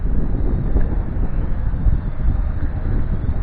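Strong wind blasts into an outdoor microphone as an Amcrest SkyVIEW Pro A6-B drone hovers, making a loud, constant rumbling roar with no clear motor tone coming through.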